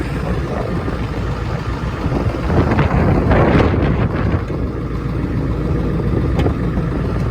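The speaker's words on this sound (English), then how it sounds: "Boy, this wind is unbelievable." Strong wind buffets the microphone outdoors near a used dump truck, a continuous loud rumbling roar that swells around the middle, with no talking.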